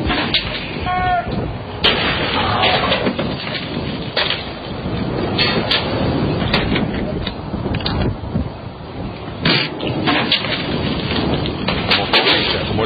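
Meter-long bars of ice falling from the sky in Mississippi and smashing into the ground, heard as repeated sharp loud crashes and cracks over a rough rumbling background, with irregular bursts spread across the clip.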